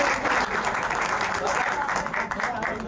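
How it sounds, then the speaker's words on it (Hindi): A crowd at a political party gathering in Haryana claps steadily to welcome a guest, sustained and fairly loud, with voices mixed faintly into the applause. "बार तालियां बजाकर स्वागत कर दें।"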